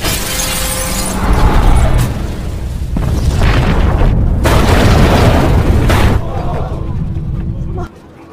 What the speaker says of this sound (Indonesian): Ledakan besar pun terjadi yang menghancurkan sebagian sisi bangunan